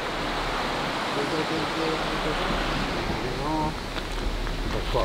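A mountain stream rushes steadily beside a steep track leading up to the bridge approach, a dense continuous wash of flowing water filling the scene, with faint tonal sounds briefly surfacing over it.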